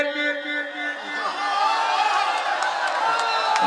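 A mushaira audience at Naya Bazar, Jahangirganj, claps together in a dense, steady wash of hands with crowd chatter and whoops mixed in, loud and continuous throughout.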